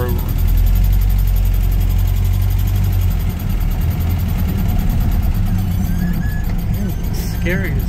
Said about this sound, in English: Test drive in the Land Rover.